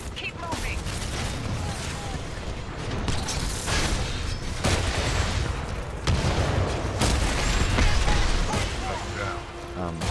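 In Titanfall 2, a Titan fires a missile salvo amid battle, a dense stream of rapid booming launches and mechanical clatter that swells louder toward the end, with game voices speaking over the gunfire.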